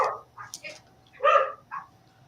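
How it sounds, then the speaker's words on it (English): Dogs bark in short, separated bursts of several yips and barks, fairly close and clear, with no talk over them. "there's Michael Peterson's dogs"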